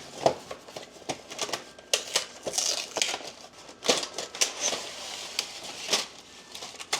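Manicotti shells being stuffed into a plastic bag, close, crinkly crumpling and rustling in irregular bursts over several seconds.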